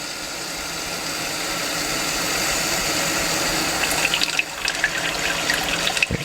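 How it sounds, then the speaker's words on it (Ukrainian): Water rushes steadily under pressure through a replacement filter element, then breaks into bubbling, gurgling splashes near the end as it fills the chamber. "Наповнюється другий елемент. Чуєте, як дзюрчить?"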